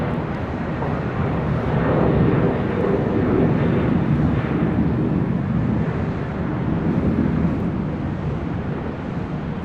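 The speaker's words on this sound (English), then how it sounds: "That was Air Canada, flight 552, coming from Vancouver on that 737 MAX 8." An Air Canada Boeing 737 MAX 8 arriving at LAX from Vancouver: a continuous, fairly loud jet rumble and whine holding steady throughout, peaking early and easing slightly, with some wind buffeting.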